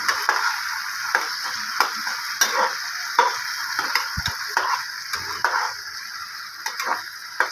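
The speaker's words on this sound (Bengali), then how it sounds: "নেড়ে চেড়ে ঢাকা দিয়ে আলুগুলো ভেজে ফেলবো।" Potatoes frying with a pinch of turmeric in a pan on low heat, a constant hiss of sizzling broken by regular clinks and scrapes of stirring.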